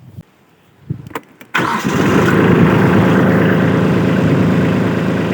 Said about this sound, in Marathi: चला तर आपण ट्रॅक्टर चालू करूयात